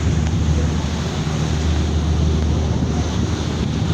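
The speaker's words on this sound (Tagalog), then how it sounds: "Malakas na ang alon o." Heavy sea waves and gusting wind roar on deck during a ferry crossing between Batangas and Calapan, Oriental Mindoro, a loud continuous rushing wash with strong wind buffeting on the microphone and the low rumble of the vessel underneath.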